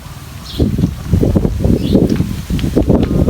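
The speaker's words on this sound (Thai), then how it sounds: "ลมและลมแรงมากเลย" Strong wind buffeting a microphone outdoors in a rose garden, a continuous rumbling roar with gusty swells throughout, no speech.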